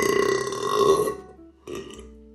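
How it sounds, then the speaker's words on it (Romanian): A loud, drawn-out burp rolls out for about a second and a half, then fades, and a brief softer burble follows near the end, all close to the mic with no talk. "Mă scuzați că râgâi ca un porc ordinar."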